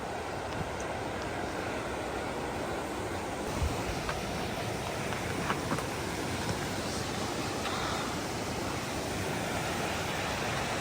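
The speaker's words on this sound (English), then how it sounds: "this one sounds kind of more like a river." A rushing river on the Rockwall Trail in Kootenay National Park roars steadily, a dense, continuous wash of water noise close by with no voices.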